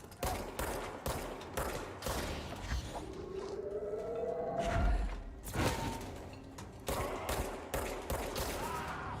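An enemy fires a big rifle in the video game Control: loud, repeated broadband bursts of gunfire with clanking mechanical noise and a rising whine midway, no talking.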